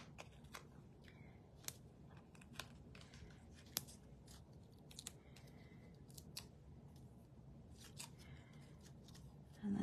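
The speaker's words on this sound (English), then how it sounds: "so I'm gonna snip some edges here." Scissors snip around the edges of a small piece of patterned paper for a Christmas card: faint, sparse, quick cutting clicks scattered over quiet room tone, with soft paper rustling.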